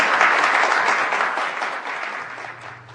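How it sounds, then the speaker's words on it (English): An audience applauds steadily, a dense wash of clapping that is loud at first and gradually tapers off, with no talk over it. "Give her a big round of applause, please, as she goes back to her government."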